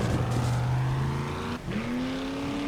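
A car engine in the 7 Days to Die video game drones loudly and close, holding a steady pitch, dropping briefly as if shifting gear, then climbing again to a sustained hum.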